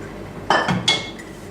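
Vegetables for mahshi are mixed in a large plate, giving two or three quick, close clinks and scrapes against the dish in a short burst, with no talk.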